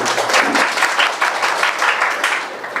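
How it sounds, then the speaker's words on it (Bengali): Loud, dense applause from a college crowd for teachers, steady clapping throughout with no pauses. "সকল শিক্ষকদের জন্য একটা করতালি সবার কাছ থেকে যেয়ে নিচ্ছে"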